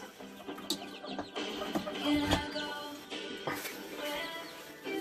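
Chickens cluck softly and steadily inside a coop near a brooder pen for small chicks, with overlapping calls continuing throughout at moderate volume.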